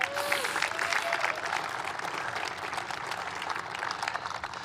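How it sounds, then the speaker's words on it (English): Audience applause at a presidential event about an Intel chip agreement, a thick continuous clapping from a crowd that holds at an even level for several seconds, with a brief voice at the start. "You should applaud that."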